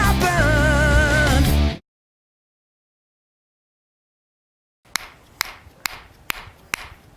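After a loud musical burst and silence, a series of sharp metallic hammer strikes rings out at a quick, slightly uneven pace.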